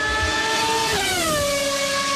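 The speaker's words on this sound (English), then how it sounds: "that's one of the old school engine noises from the past" An old-school Formula One V10 engine screams at high revs, then its pitch drops sharply as it passes, loud and sustained with no talk.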